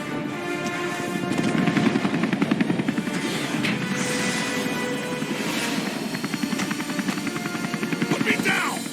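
Helicopter in a Spider-Man video game, a steady rotor chop holding throughout at moderate loudness, mixed with game action noise and scattered bursts resembling gunfire.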